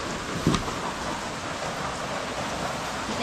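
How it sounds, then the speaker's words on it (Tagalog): Heavy rain pours steadily around a waiting shed, a dense continuous hiss of drops with one brief thump near the start and no voices. "Hindi tayo makaluto dito mga katangay, ang daming ulan."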